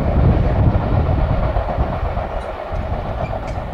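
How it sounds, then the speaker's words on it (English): A short CSX freight, one locomotive pulling a single car, rumbles past close by with steady rolling wheel noise and faint clatter, gradually easing as it goes by. "That's the shortest train you'll ever see right there."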